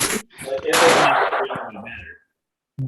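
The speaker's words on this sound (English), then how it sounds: "I like the gunfire in the background," Gunfire crackles in the background during an outdoor event in a field, a few sharp reports and rattling bursts that fade to silence, with a voice talking alongside.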